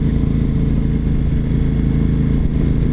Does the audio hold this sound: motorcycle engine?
yes